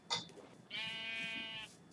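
A sheep in a video game gives one clear, sustained bleat after a brief short sound, close and alone against a quiet background.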